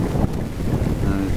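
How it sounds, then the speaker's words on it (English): Steady south wind buffeting the microphone on the Nullarbor near Eucla, a continuous low rumbling roar with gusty texture and no voices. "the wind's coming like mad from the south instead of from the north"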